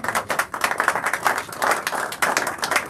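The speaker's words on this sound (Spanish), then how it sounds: "Esa gente sí que merece un aplauso." Audience applause at a talk on democracy and the crisis of neoliberalism, with a scattered crowd clapping briskly in uneven bursts that swell and dip over a few seconds.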